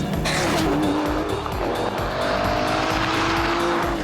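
V12 supercar engine roaring loud and close as the tires squeal and the rear slides out, a continuous high-revving drone with a sustained screech across the whole moment.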